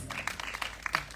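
Applause for a film team at a press conference, a short spell of scattered, fairly quiet clapping from a small crowd, with a few sharper individual claps standing out.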